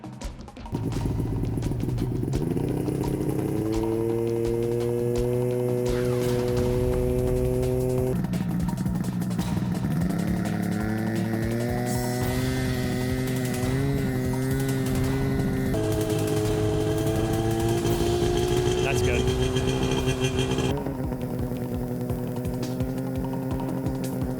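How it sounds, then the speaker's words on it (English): A loud engine fitted with an aftermarket exhaust, checked during a winter patrol, runs steadily close by for the whole stretch, its deep drone rising and falling in pitch as the revs shift. "Aftermarket exhaust systems are the primary cause of engines being too loud."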